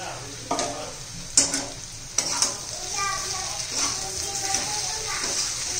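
Okra and potato bhaji sizzles and fries in a pan while a spoon scrapes and stirs it in several sharp clatters, close and moderately loud, with no talking.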